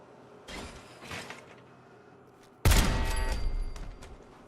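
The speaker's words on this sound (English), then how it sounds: "It's a good thing the turrets make really loud noises." Turret gunfire in Fallout 4: a burst of loud, dense shots that starts suddenly and runs for over a second, after a few fainter mechanical clunks and rattles.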